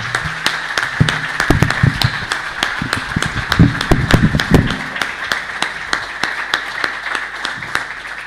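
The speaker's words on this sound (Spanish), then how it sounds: "Un aplauso nuevamente." An audience applauds at a sustainable-energy housing talk, a steady patter of many hands with sharp individual claps standing out, moderately loud and continuing for several seconds without speech.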